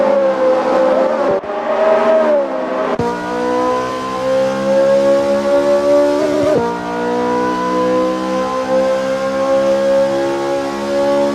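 Ferrari F355 race cars lapping the Tortuoso track in Assetto Corsa, a loud close engine drone rising and falling in pitch through gear shifts, with another car's note layered over it.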